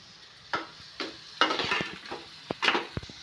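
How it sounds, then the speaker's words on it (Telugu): Ivy gourd pieces and tomato frying in a pan of oil, with a few scattered stirring scrapes and knocks over a soft background sizzle, close up, no talking. "దొండకాయలు బాగా ఫ్రై అయిపోతున్నాయి"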